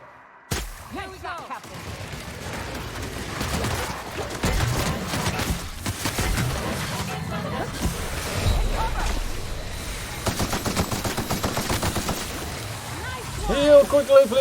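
Gunfire in the sci-fi shooter The Outer Worlds, rapid bursts of shots crackling amid chaotic combat noise throughout, with someone talking excitedly over the fight.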